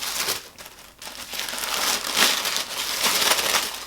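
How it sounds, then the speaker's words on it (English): Tissue paper crinkles and rustles in close, loud bursts as a gift box from a magnetic box is unwrapped, with short pauses between handfuls. "there's a whole bunch of tissue paper"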